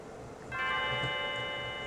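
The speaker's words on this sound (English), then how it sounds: "The ringing bells. The bells! The bells!" A bell in the video game Chrono Trigger rings out partway through, its bright sustained chime layered over a low background hum and lingering steadily.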